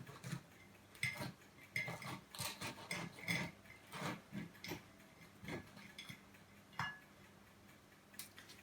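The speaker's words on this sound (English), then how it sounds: "You cut the scone in half." A knife cutting through a scone to split it in half: quiet, close crumbly scrapes and light clicks coming in irregular bursts, with short pauses between strokes and no speech.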